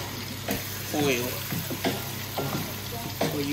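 Yam pieces fry and sizzle in hot oil with a steady crackling hiss, close up, while a voice talks over it.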